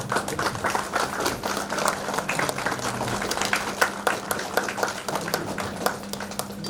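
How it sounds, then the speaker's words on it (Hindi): Audience applause welcoming guests at a panchayat heads' meeting in the DRDA hall in Chatra, a dense steady patter of many hands clapping throughout, with a low hum underneath. "जोरदार तालियों के साथ स्वागत करेंगे"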